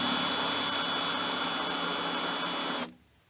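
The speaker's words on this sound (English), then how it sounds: "So if you drill out that pin in the middle" A drill boring out the center pin of a safety Torx screw on an old Craftsman battery, a steady high whine running continuously for nearly three seconds before stopping abruptly, close and loud with no talk.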